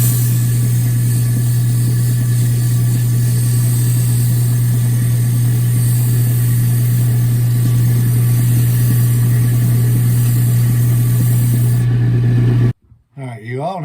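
A wood lathe spins a wooden gouge handle while sandpaper is pressed against it, giving a loud, steady motor drone with a faint rasp that stops abruptly near the end.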